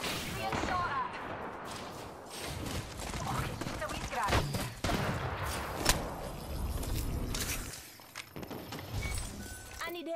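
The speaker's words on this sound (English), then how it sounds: "Listen up, I'm getting shot at." Gunfire cracks in the battle royale game Apex Legends, a busy mix of shots and impacts with short bursts under character voice lines and the noise of movement.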